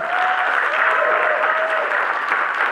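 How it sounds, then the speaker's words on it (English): A conference audience applauds steadily after a talk, a dense, even wash of clapping that holds at full strength throughout, close and loud. "Give me a big round of applause."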